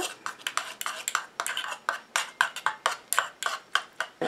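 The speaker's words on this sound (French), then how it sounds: "Et je mélange." Spoon scraping and clinking rapidly around a bowl while coconut powder and allantoin are stirred into a water phase for a body cream, a steady rhythmic series of close, bright strokes.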